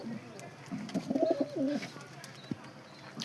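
Pigeons coo in a series of soft, throaty, rising-and-falling calls, moderately close, with a faint knock partway through and quiet background ambience.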